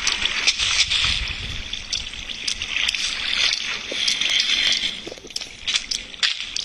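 Water splashing and trickling while a flooded house is cleared, a continuous wash of sloshing and dribbling with small crackles and splashes, close by and fairly loud.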